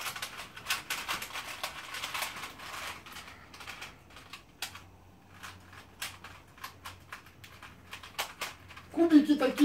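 Plastic puzzle cubes with an unusual, nonstandard colour scheme are twisted while being solved, giving rapid irregular clicking and clacking bursts close by, with faint background voices and a louder rustle at the end.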